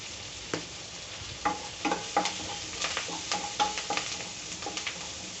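Curry leaves and a pinch of asafoetida frying in hot oil for a drumstick-leaf stir-fry, a quiet crackling sizzle with scattered pops and spoon scrapes, near and fairly soft, no voices.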